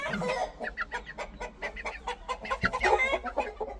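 A fighting rooster of a Lassani line clucks in rapid, uneven bursts close by. The busy chatter of fowl goes on without a break and is louder toward the end.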